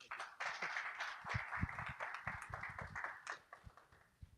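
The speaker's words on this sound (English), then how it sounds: "So round of applause," Audience at a Deep Tech Melbourne tech meetup applauding a speaker as he is introduced: a steady wash of many hands clapping, moderately loud and continuous, fading slightly toward the end.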